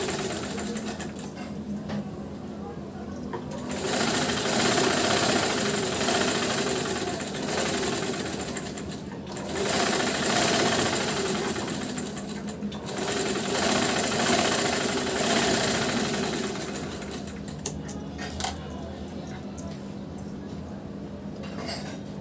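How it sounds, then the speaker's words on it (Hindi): A sewing machine stitches a blouse lining for a double katori blouse, running loud and close in long continuous bursts with brief pauses between runs. "लाइनिंग का लाइनिंग उसी के ऊपर रखेंगे और फिर हम सिलेंगे इसको। एक पैर की सिलाई लेते हुए हम इसको पहले सिल लेंगे।"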